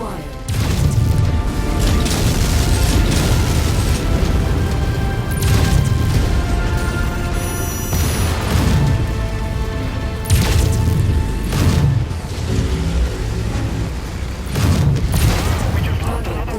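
Repeated heavy explosions and crashing impacts from a relay being destroyed in MechWarrior 5, booming in a dense, loud, rhythmic barrage across the whole stretch with no talk.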